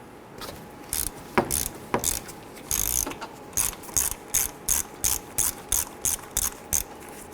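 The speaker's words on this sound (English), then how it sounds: "We're going to use a 3/4 inch socket, deep socket, to go ahead and remove the sensor." A ratchet wrench with a 3/4 inch deep socket clicks in a steady series of short bursts while loosening a coolant temperature sensor on a 1997–2006 Jeep Wrangler, close and loud with no talking.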